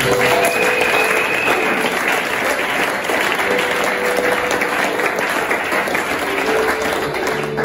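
A church congregation applauds in praise of the Lord, sustained dense clapping from a large crowd that stays loud and steady throughout, with faint voices mixed in.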